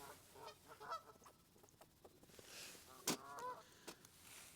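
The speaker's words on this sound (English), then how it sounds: "what's those geese doing back there now?" Geese honk in the distance beside a fishing lake, a few scattered calls against quiet outdoor background, with one sharper, louder honk standing out briefly.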